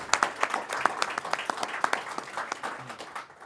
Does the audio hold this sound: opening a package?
no